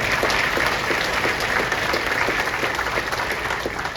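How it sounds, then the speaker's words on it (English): Audience at a town hall meeting in Ottumwa applauds the Democrats in attendance, a dense, steady clapping that holds at the same loud level for the full length with no voices over it. "let's make sure we give a round of applause to the Democrats"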